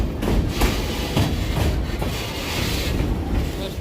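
A tourist train on the Stone Mountain ride in Georgia rumbles steadily along the track as it slows, with a continuous low clatter and faint periodic clicks of the wheels, close and moderately loud.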